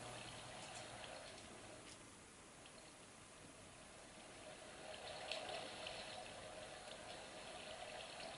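Steady flowing water in Minecraft, held in place by signs, a continuous soft wash running through the whole stretch with no talk over it.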